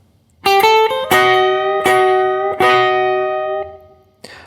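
Jump blues lick on electric guitar: a few clean, bright picked notes and double stops, four strong attacks in a steady phrase with ringing sustain, played alone with no talk, ending in a faint pick noise.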